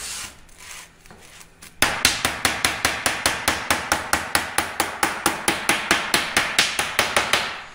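Repeated hammer blows flatten the sheared, curled edges of sheet steel for a hand-formed rear floor pan on a 1967 Kaiser Jeep M715, a steady rhythm of about four sharp metallic strikes per second, loud and close, after a quieter opening.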